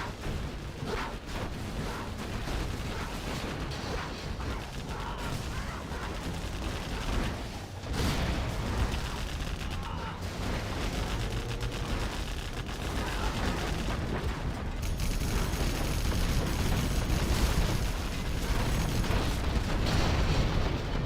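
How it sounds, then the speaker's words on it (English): Artillery shells and explosions pound steadily in a Command & Conquer Generals Zero Hour battle, a sustained rumbling barrage of booms and gunfire that grows slightly louder over twenty seconds. "Artillery coming in."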